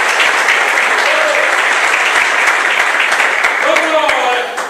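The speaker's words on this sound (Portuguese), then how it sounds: "Aplauda o Senhor com vontade." A church congregation applauds loudly and continuously, a dense wash of many hands filling the room, with voices rising through it near the end.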